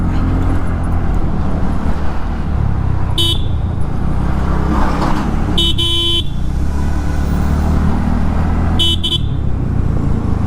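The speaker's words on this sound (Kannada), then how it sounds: "ಫುಲ್ ಲಾಂಗ್ ಪ್ರೆಸ್ ಮಾಡಿದ್ರು ಕೂಡ ಹಾರ್ನ್ ಬಿಟ್ಟು ಬರ್ತಿದೆ" A motorcycle horn, tested from the rider's seat while riding, sounds in short broken blasts at about three moments over steady engine and road noise. The toots stay close and loud, with each press cutting out into separate pulses instead of one continuous tone.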